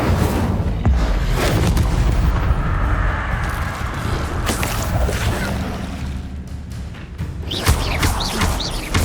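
The Incendio fire spell is cast in Hogwarts Legacy, a loud, sustained roaring whoosh of flame with booming bursts that fills the scene continuously.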